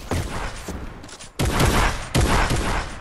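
A video game shotgun fires in two heavy, close blasts, each with a sharp crack and a booming low tail, following a fainter earlier shot and background game noise.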